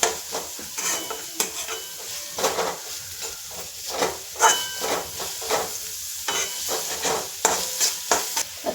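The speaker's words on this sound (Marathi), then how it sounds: "आता कांदा पण कलर बदलेपर्यंत थोडा छान परतवून घेऊ आपण." Onion and garlic sautéing with cumin and mustard seeds in a pan on a stovetop, a steady close sizzle broken by repeated scraping and stirring strokes of a spoon against the metal, with no one talking.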